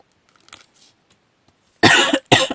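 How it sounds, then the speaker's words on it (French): Two harsh coughs close by, one right after the other, following a few faint rustles and quiet background sounds. "Je crois que ça va être la matinée où je tousse."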